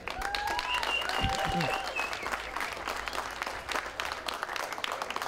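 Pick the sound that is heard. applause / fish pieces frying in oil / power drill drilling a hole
applause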